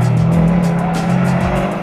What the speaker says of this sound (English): you get a chance to push to the limits some of BMW's legendary M cars on this phenomenal